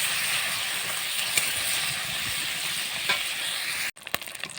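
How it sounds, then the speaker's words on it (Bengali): Shrimp fry in hot oil with turmeric powder, a steady soft sizzle and hiss with a few faint stirring clicks, fairly quiet and without talking, briefly cutting out near the end. "চিংড়ি মাছগুলো এর মধ্যে আমি দিয়ে দিলাম, দিয়ে ভালো করে ভেজে নেব।"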